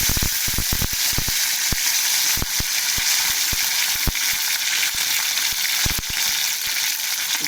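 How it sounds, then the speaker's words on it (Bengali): Panch phoron spices sizzle loudly in hot oil, a steady bright hiss broken by frequent sharp pops and crackles as the seeds spit in the pan. "তো তেলটা আমার গরম হয়ে গেছে, পাঁচফোড়ন দিয়ে দেওয়া হলো তেলে।"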